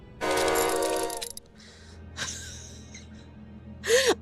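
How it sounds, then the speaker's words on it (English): A small train-whistle toot from the character Dante in the video game Limbus Company, a short rising-and-falling whistle near the end, after a loud burst of noisy game sound and a quieter hiss. "the little train sound that comes out of Dante whenever he's like extremely alarmed"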